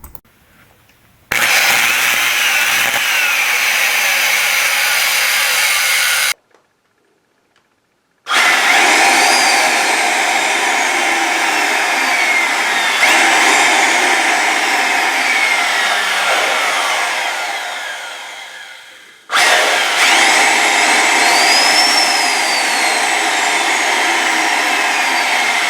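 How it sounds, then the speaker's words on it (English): Dyson Ball vacuum motor running with electrical arcing around the commutator, a loud high whine with crackling that starts and stops, running in long bursts with silent gaps and winding down once before restarting. "creates an electrical arc that wraps around the commutator while it's trying to run."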